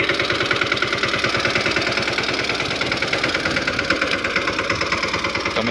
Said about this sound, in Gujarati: આપણો વાવણીયાનું ટ્રેક્ટર આવી ગયું છે